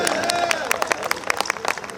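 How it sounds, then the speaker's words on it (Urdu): An audience applauds at an Urdu poetry recital in Kanpur. Dense, crowded clapping runs through the whole short stretch, mixed with crowd murmur and a voice over it. "جو آپ کو سمجھ میں آ رہا ہے اس پہ تو آپ تالیاں بجا رہی ہیں"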